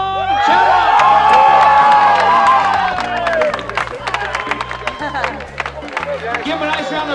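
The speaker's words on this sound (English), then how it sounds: "Give him a nice round of applause" An outdoor crowd at a clam chowder cook-off on the Santa Cruz Beach Boardwalk cheers and whoops for the contest winner, loud and sustained, then breaks into scattered steady applause, with some voices mixed in.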